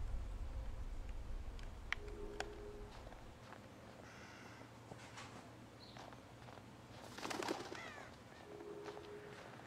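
Bird calls in the horror video game Until Dawn, a few soft coos and chirps scattered over a low ambient rumble, with faint footsteps-like ticks and no talking.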